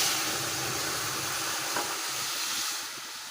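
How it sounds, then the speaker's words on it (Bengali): Onions frying in a hot pan give a steady, close sizzle of bright crackling hiss that holds even throughout, easing off slightly at the end, with no talking. "তো দেখো পেঁয়াজটা ভাজা হয়ে আসছে"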